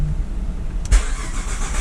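A Ford Mustang with a 3.7-litre V6 cranks and fires up, a sharp burst of starter and catch giving way to a steady, close idle.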